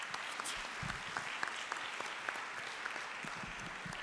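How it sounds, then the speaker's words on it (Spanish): Audience applause at a talk or lecture, a faint, even patter of many hands that continues steadily throughout. "pidiéndoles un aplauso para Federico Reyes Heroles"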